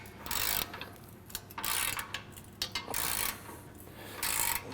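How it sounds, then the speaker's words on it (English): Ratchet with a 17mm socket tightening bumper bolts on an Ironman 4x4 Raid front bumper fitted to a 2016+ Toyota Tacoma, several close bursts of rapid clicking separated by short pauses. "I'm gonna tighten these guys down"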